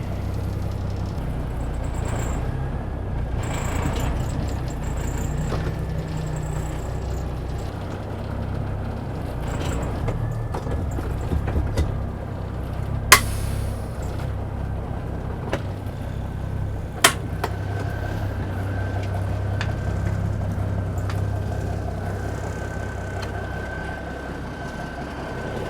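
A cabover donor truck idles and rumbles under its own power, a steady low engine drone throughout with a couple of sharp clanks and a faint whine, no talking.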